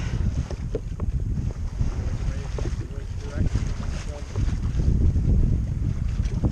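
Strong wind buffets a sailboat on the Columbia River, roaring and rumbling through the microphone with rushing water, building louder toward the end; voices faintly under it.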